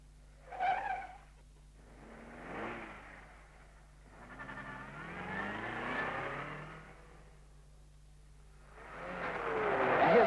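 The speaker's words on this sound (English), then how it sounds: "the braking and acceleration test" A 1951 Monte Carlo Rally car brakes, slides its front wheels over a line, reverses, then accelerates flat out, heard as separate bursts of engine revving and skidding tire noise with short lulls between them.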